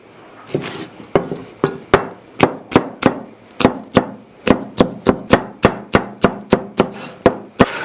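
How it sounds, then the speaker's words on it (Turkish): A knife chops seeded peppers into large chunks on a board, giving about twenty sharp, close, regular knocks at a steady rhythm, one every third of a second or so, with no talking. "Tohumlarını aldığımız biberlere iri kuşbaşı doğrayacağız"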